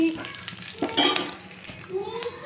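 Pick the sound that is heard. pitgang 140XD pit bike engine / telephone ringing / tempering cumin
tempering cumin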